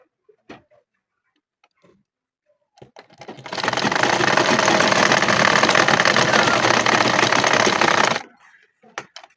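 Sewing machine runs steadily for several seconds stitching a toddler's Spider-Man backpack, a loud, even mechanical whirr with rapid ticking, framed by soft handling clicks before and after.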